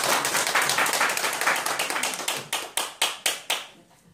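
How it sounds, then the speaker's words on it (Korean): Students in a Korean lecture on astronomy applaud their professor: a thick burst of clapping that thins out into a few loud, evenly spaced single claps, each ringing briefly before fading to quiet. "박수로 크게 한번"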